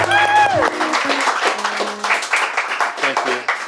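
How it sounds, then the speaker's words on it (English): Audience applause welcoming guests onto a couch-set show rises as a dense clatter of clapping and crowd noise, with a voice speaking briefly over the start. "Please engage applause protocols for Eve Wilczewski and Meg Goals."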